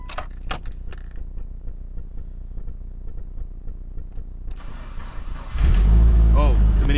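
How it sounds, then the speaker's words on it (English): A Mitsubishi Evo 9 running E85 cranks from dead cold after sitting over a day, catching on the first crank with a sudden loud roar that settles into a deep idle, preceded by quiet handling sounds and faint talk. "But yeah, it started up pretty much first crank."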